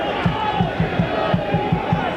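A football crowd of about 5,500 packed into the Victoria Road ground roars continuously, with rhythmic chanting pulsing at a steady beat through the loud, dense wash of voices.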